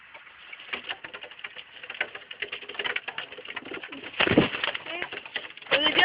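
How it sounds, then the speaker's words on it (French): Pigeons in a pigeon loft coo and shuffle close by, with a dense run of soft throaty calls, rustling and fluttering that swells into louder bursts toward the end. "C'est un petit pigeon, ça."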